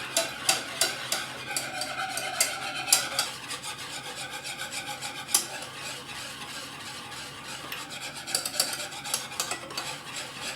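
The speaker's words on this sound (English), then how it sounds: "Now we're just going to whisk this continuously until it thickens up" A chocolate cake mixture is whisked continuously in a bowl, making a steady, close scraping and rasping that runs without a break, with rhythmic strokes and occasional sharper clicks of the whisk against the sides.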